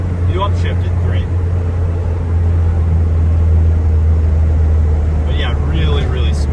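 A 1992 Range Rover two-door's engine drones low and steady from inside the cabin while driving, with someone talking over it throughout.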